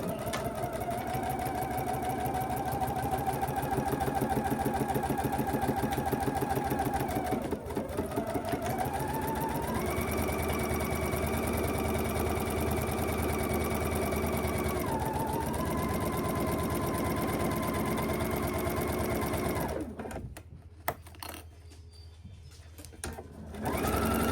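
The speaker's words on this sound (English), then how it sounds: "we're going to sew the accent panel right sides together. Back stitching at the beginning and the end, securing that panel down." A sewing machine stitches a fabric accent panel with back stitching at each end, a loud continuous mechanical whir that shifts pitch a couple of times before slowing to a stop near the end.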